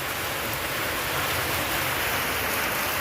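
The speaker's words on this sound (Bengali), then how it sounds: "এখন বৃষ্টি হচ্ছে এখন দারুণ বৃষ্টিটা আরও বাড়ছে" Heavy rain pouring down outdoors at a rural home, a dense, steady roar of rainfall that stays constant and close throughout, with no voices.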